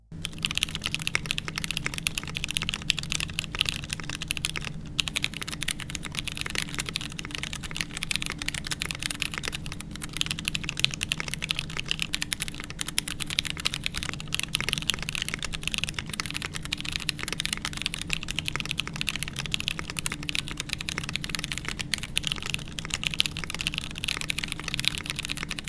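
Continuous rapid clacking of mechanical keyboard keys with tactile switches, close and steady, with no pauses or voices.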